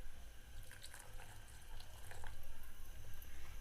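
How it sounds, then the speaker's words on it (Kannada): Hot water poured into a dish for a home-cooked curry, a faint, trickling stream of water with light splashes that grows slightly fuller toward the end, alone with no talk. "ಸ್ವಲ್ಪ ಬಿಸಿನೀರು ಮಾಡ್ಕೊಂಡು ಇದಕ್ಕೆ ಹಾಕೋಬೇಕು ರೀ"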